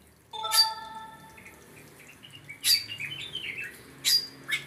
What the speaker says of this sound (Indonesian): burung ruak-ruak ini udah produksi di sini